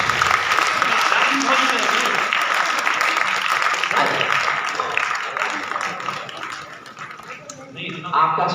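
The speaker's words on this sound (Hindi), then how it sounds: "आपका जोरदार तालियां बजाकर" Sustained applause from a large audience at a poetry recital, steady and loud throughout, tapering slightly before a brief swell at the end.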